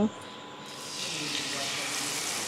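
Spice paste poured into hot oil with dried chili and cumin for a coconut chana dal, a short clatter then a steady loud sizzle that rises and holds.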